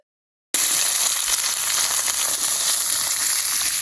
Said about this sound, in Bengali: এবার গাজরটা আমি ভেজে নেব।